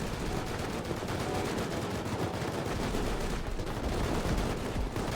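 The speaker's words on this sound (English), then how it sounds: "The actual base is genuinely getting rocketed." Dense gunfire and rocket blasts from AI scientists attacking a base in the Rust video game, a continuous loud barrage of rapid shots and impacts without talk.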